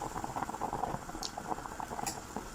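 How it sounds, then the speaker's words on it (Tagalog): Water bubbling at a steady simmer in a covered cooking pot on a stove while macaroni salad ingredients cook, a soft continuous patter of small bursts heard close up with no voices. "Kanina pa ito kumukulo."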